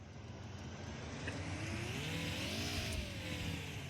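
A simulated car engine in a Unity video game drone dips then swells in pitch as the car brakes and reverses, steady and moderately quiet with no speech.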